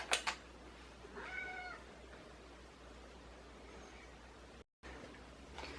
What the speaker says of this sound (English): She's like the noisiest, neediest cat in the whole world